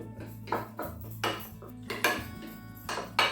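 Black pepper being mixed into yogurt in a bowl, a spoon clinking and scraping against the dish in a regular rhythm of roughly one stroke every half second, close and clear.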